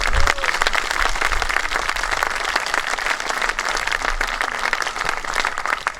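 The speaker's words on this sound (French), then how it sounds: "Je voudrais qu'on remercie, qu'on applaudisse les musiciens et chanteurs." Congregation applauding the musicians and singers at a church Mass installing a pastoral team, a dense, loud, continuous wash of clapping filling the room without pause.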